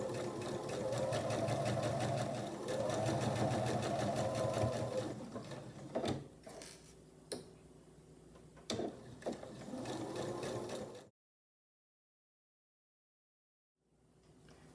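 A sewing machine stitches a scant quarter-inch seam on a pinned quilt block, a steady close whir running for several seconds, pausing with a few clicks and short bursts, then stopping into silence before faint sound resumes.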